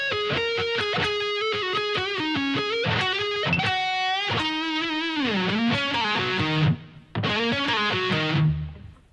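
Distorted electric guitar plays the opening of a solo, a fast run of sustained, saturated notes with pull-offs and a slow half bend, loud and continuous with one brief gap near the end.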